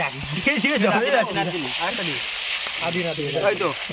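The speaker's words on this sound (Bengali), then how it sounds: "তরকারি রান্নার প্রথম ধাপ মাছ ভাজা তো সেটাই হচ্ছে এখন" Fish pieces sizzle as they fry in hot oil, a continuous crackling hiss running softly beneath people talking nearby.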